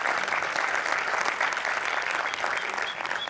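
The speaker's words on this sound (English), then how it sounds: "A round of applause," A crowd applauds a tourism official at a welcome speech, a brief, continuous burst of many hands clapping together at an even, moderate level without any speech on top.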